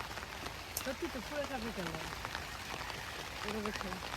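Steady rain pours down on a farm in Canada, a continuous broadband patter that runs under a voice talking throughout.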